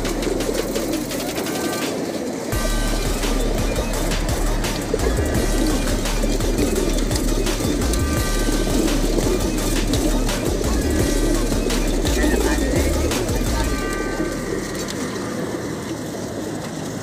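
Racing pigeons coo repeatedly against a loud, constant rumble of background noise that fills the whole scene, at a racing pigeon club in Norzagaray at 7 a.m.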